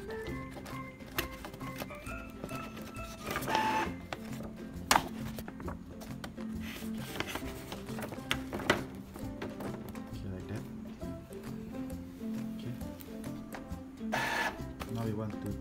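An Epson L3116 inkjet printer feeds a sheet of test paper with intermittent mechanical whirring and clicking, heard beneath a person talking nearby.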